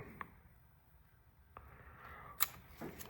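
A few short, crisp scissor snips cutting cord at separate moments, quiet and close, with faint handling noise between cuts.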